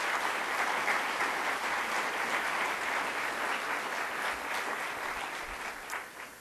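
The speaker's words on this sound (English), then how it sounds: "Please, a round of applause for all of them." An audience at a Rutgers University event for the Center for American Women and Politics in New Jersey claps steadily, a dense, even applause that holds for several seconds and tapers slightly at the end.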